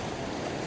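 Sea waves splash and wash continuously against a beach park shore in Cyprus, a brief, steady rush of surf close to the microphone with wind noise.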